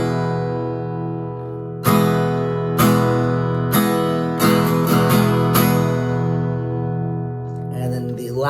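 Guitar chords strummed one after another, each struck chord ringing out and layering over the last in a steady, close, full sound with no talk.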